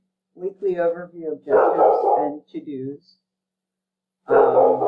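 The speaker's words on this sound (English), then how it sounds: "you can hear my dog in the background" A dog barks and yips in short bursts in the background while a person talks over it.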